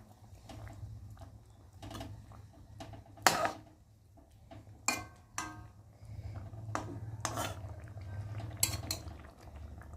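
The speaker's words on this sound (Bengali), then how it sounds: "খুন্তি দিয়ে ভালো করে নেড়ে চেড়ে দেবো।" A spatula stirs fish curry in a pot, giving scattered scrapes and metallic clinks over a low, steady simmering bubble, close by and fairly quiet.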